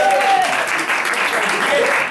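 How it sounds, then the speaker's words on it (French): Audience applause at an aphorism battle during a Cactus Inébranlable festival, steady dense clapping throughout with a faint voice or whistle near the start. "Jean-Philippe Gossens, voilà, on applaudit."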